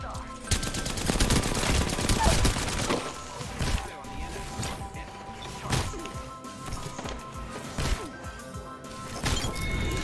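Rapid bursts of gunfire and impacts in a video game firefight, loud and dense at first, then scattered shots and thuds, with a player talking over the action.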